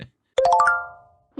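A phone notification chime for an incoming bank transfer gives a short run of bright, rising bell-like tones that ring out and fade. A voice starts right after.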